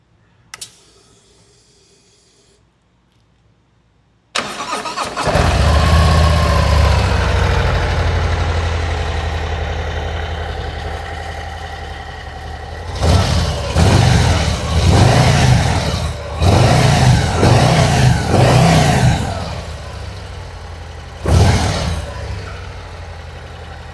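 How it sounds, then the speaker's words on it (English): A Harley-Davidson V-twin motorcycle with a wireless key ignition fires up abruptly after a few quiet seconds, settles into a loud, lumpy idle, then revs in several sharp bursts before dropping back to idle. "You can really hear that signature Harley V-twin"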